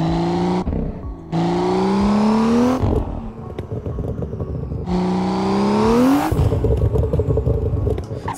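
A modified, straight-piped BMW M2 roars loudly in the Assetto Corsa racing game at a drift park, with two rising high-rev pulls, each followed by crackling exhaust pops and bangs as the revs drop.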